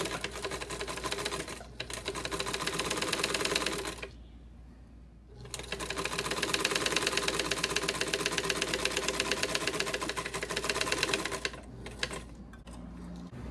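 A sewing machine stitches a protective face mask in a long, steady run of rapid mechanical chatter. It stops briefly, then resumes and runs on, close and loud, with no talking.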